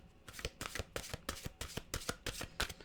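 Oracle mantra cards are shuffled by hand in a quick series of crisp, riffling bursts, close and fairly quiet, with no voice.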